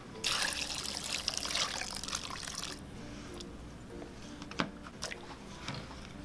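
Water poured into a slow cooker holding two pounds of navy beans, a loud splashing stream for the first three seconds, then quieter trickles and a few small clinks.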